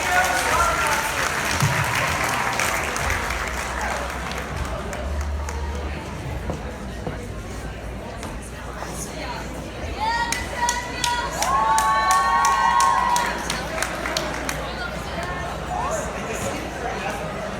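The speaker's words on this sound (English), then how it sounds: "Let's give another round of applause for the best and great girls volleyball team." Banquet crowd applauding and cheering for a girls volleyball team, sustained clapping with whoops and shouts swelling near the middle, a voice talking over the start.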